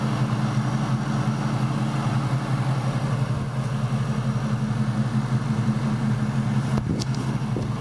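A vehicle engine idles smoothly and quietly, a steady low rumble holding even throughout with a brief clunk near the end.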